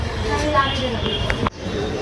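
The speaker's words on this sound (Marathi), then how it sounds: "आता गाईज फायनली ट्रेन निघली" A train rumbles steadily as it gets under way, with people talking over the noise and a brief dip near the end.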